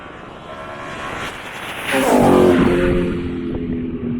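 BMW M3 E92 with a new intake accelerating somewhere off at a distance, a rising engine roar that swells to a loud peak and then fades, heard outdoors over background noise.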